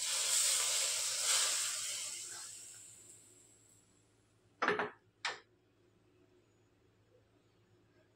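Very hot oil poured into a mutton handi gives a loud hissing sizzle that fades over about three seconds, followed by two short sharp clatters and then near quiet.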